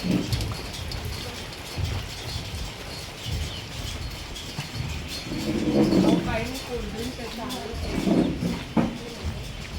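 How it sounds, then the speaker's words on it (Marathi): Steady monsoon rain hisses and patters without pause on a farmhouse terrace in Karjat, while people talk nearby over it. "पाऊस सतत चालूच आहे"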